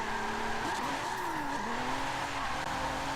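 A 700hp Mitsubishi GTO drifts over a jump in Forza 7, engine droning steadily with a rising and falling tire squeal, continuous and close.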